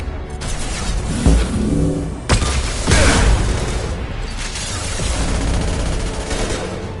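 Flashbang grenades go off during a Mass Effect 2 firefight, loud booms and crackling bursts layered over continuous gunfire and rumbling battle noise.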